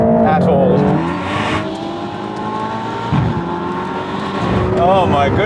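Lamborghini Aventador Ultimae launching hard in a drag race against a Mercedes-AMG GT Black Series, loud close engine howl rising through gears with breaks at the shifts and tyres losing traction.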